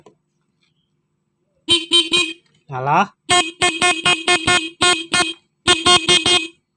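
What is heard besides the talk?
motorcycle horn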